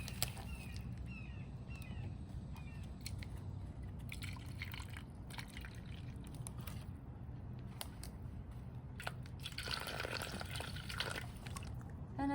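Collected rainwater poured straight onto the soil of a potted opuntia cactus, a soft continuous trickle with small drips and splashes, faint and close, no talk.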